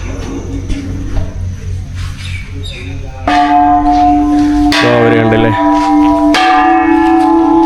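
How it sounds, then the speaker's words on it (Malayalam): A temple prayer bell in a Thai village is struck several times, with loud, ringing metallic tones that sustain and overlap, over a softer opening with faint voices. "ഇതിലാണ് കേട്ടോ നമുക്ക് മണിയടിക്കാൻ പറ്റുന്നത് അവരിതിലാണ് ഇട്ട് മണിയടിച്ചത്"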